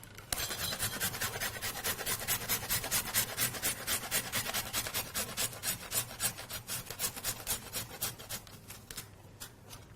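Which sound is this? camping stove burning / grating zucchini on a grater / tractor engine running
grating zucchini on a grater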